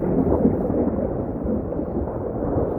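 Low, continuous rumbling thunder from a summer hail storm in early August, steady and fairly loud throughout with no distinct cracks and no voices.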